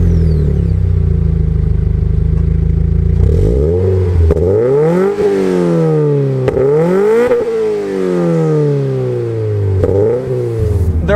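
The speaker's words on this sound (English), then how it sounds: "The TRD, however, has got the TRD exhaust, and it sounds like a pissed off Subaru" A 2019 Toyota 86 with a TRD exhaust revs hard from idle, climbing and dropping through several sharp blips in a loud, close run with no talk.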